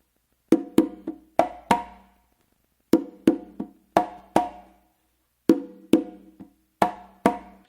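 Conga drums play a Matanzas-style guaguanco pattern on three congas, muffled strokes heard as repeating groups of crisp, short hits in a steady cycle, close and alone with silence between phrases.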